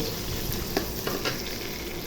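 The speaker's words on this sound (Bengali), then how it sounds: "এখন পেঁয়াজগুলো দিয়ে দিব দিয়ে ভেজে নিব" Onions fry in oil in a pan for chicken dopeyaza, a loud, close, continuous sizzle broken by scraping stir strokes.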